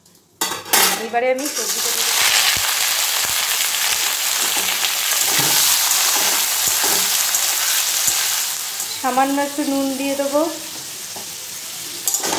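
Cumin, dried chillies, bay leaf and vegetables sizzle steadily in hot oil in a pan while making daliya khichuri, with utensil clinks and stirring scrapes; someone talks over it near the start and end.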